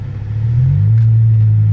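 A BMW E60 M5 with SMG gearbox and new clutch pulls away from rest, its engine swelling into a loud, steady low growl that builds smoothly over about two seconds with no gear-change break, close to the listener.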